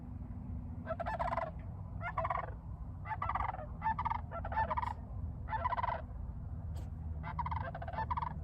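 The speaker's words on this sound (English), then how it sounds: "These are cranes." Cranes flying overhead give repeated rolling, bugling calls in about eight distinct bursts, moderately distant over a steady low background rumble, with no talk.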